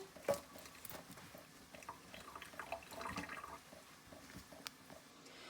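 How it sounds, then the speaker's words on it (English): Water runs and splashes in a kitchen sink as beet skins are washed under it, faint and close, with small drips and patters and one sharp knock near the start. "You'll notice I'm also washing my skins off in the sink under water."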